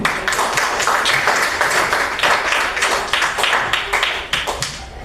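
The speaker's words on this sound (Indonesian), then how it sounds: "Berikan tepuk tangan." Students in a school classroom at SMP 1 Telaga clap together, a dense, loud round of hand claps that carries steadily for the whole stretch, with a voice briefly audible beneath it.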